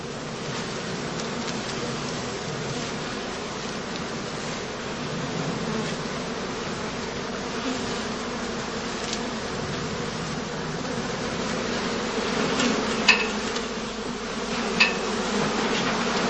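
Dense, steady buzzing of many honey bees at skep hives close by, a continuous insect drone with occasional individual buzzes passing nearer.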